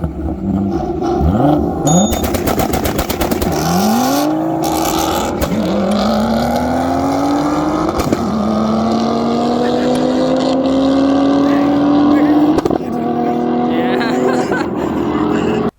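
Engine of a 900 whp Ford F150 racing truck revs and accelerates, loud and close, with rising pitch sweeps as it climbs through gears over a constant roar.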